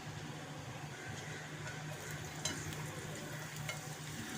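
Julienned ginger and star anise sizzling in oil in a pan that is not very hot, giving a steady, fairly faint frying hiss with light stirring clicks throughout.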